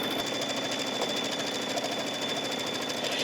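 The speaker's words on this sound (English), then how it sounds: "the machine is going to stitch a rectangle around the fabric and the batting" An embroidery sewing machine stitches a rectangle through fabric and batting with a fast, steady mechanical chatter of needle strokes that runs unbroken at moderate volume.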